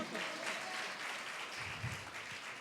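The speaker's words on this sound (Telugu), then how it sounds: "కొట్టాలి చప్పట్లు" A congregation claps during a short sermon on the power of Jesus' blood, a soft, distant burst of clapping that continues steadily for a few seconds.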